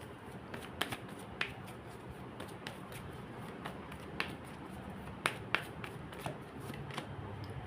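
Tarot cards are shuffled and handled quietly, giving soft scattered flicks and sharper snaps spread irregularly over several seconds, close by and faint, with no one speaking.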